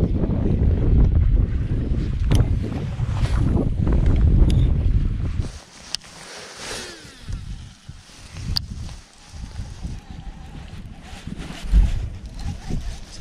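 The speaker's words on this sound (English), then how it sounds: "It is freezing cold. It's windy." Cold wind gusting across a lake on a fishing outing, heavy rumbling buffeting that drops off partway through and leaves quieter gusts and faint water sounds, with a voice speaking at times.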